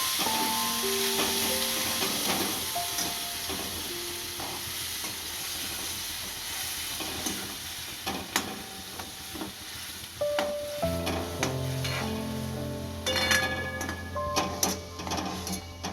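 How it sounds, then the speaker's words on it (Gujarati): Onion gravy simmers and sizzles in a pan, a continuous soft frying hiss with intermittent scraping and ticking clicks of stirring that grow busier and louder toward the end. "હવે ડુંગળીની ગ્રેવી નાખીશું અને ચડવી લઈશું આપણે"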